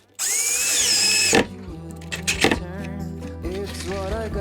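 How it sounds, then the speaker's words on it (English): A power drill whines at high speed, then bores pilot holes in wood for a cabin addition, a short sustained spin followed by several quick bursts and motor slowdowns, close up with no talk. "We'll do some measurements, pre-drill some holes, put some screws in it,"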